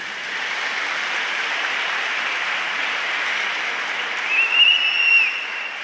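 A crowd at the Salesian national games in May 2018 applauds steadily, a dense, even wash of clapping heard from a distance that swells slightly near the end.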